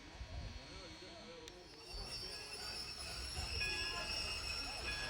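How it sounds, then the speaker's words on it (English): Virginia & Truckee Railroad train moving along the tracks, with a steady rumble of rolling cars and high, sustained wheel squeals rising over it, heard nearby and continuous. "So they backed the train up a good distance away."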